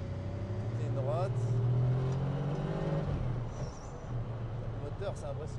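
A Gumpert Apollo sports car engine roars and revs close by on a circuit straight, its pitch rising and falling as it accelerates, with someone talking in French over it.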